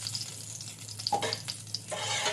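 Ghee added to hot oil crackles and sizzles in a pan, punctuated by a couple of sharp metallic taps and a scrape near the end.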